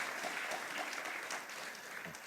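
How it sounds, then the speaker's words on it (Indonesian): A church congregation at a Sunday worship service in Batam claps together in a steady, dense burst of applause that fills the room for a couple of seconds. "Beri tepuk tangan dulu buat Tuhan Yesus."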